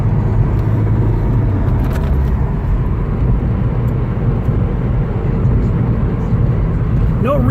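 A 1986 Porsche 944 Turbo cruising down the road at about 70 mph, heard from inside as a steady, loud low engine and road rumble with continuous wind and tire noise and no distinct changes.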